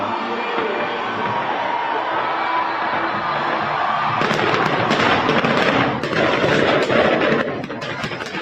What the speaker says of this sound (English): Start with the fireworks.